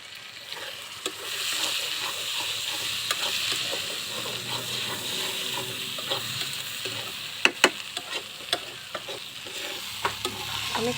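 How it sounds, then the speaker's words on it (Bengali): Chepa shutki, Mymensingh-style dried fish, fries in oil with a continuous crackling sizzle while a spoon scrapes and stirs the pan, and a few sharp clinks rise above the frying near the end. "এবার আমি শুটকিটা দিয়ে দেব একদম তেলের মধ্যে।"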